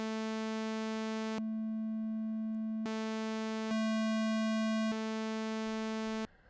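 A keyboard synthesizer holds one steady pitch while the waveform switches several times, each block of tone changing from bright and buzzy to purer and back, then cutting off cleanly.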